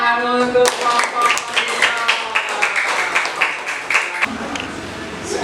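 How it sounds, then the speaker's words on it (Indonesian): A classroom of students claps for a presenting student group, a burst of scattered hand claps that thins toward the end, fairly close, with a voice speaking at the start. "tepuk tangan untuk kelompok."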